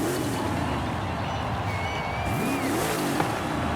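A muscle car engine in Forza Horizon 5 revs and growls continuously, the pitch wavering up and down, with a thin whine on top and a small knock near the end.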